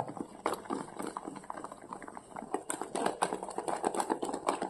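Cake batter beaten briskly with a whisk in a bowl, for a pressure-cooker cake: a steady stream of quick, close clicking and scraping strokes, fairly soft and continuous without talk.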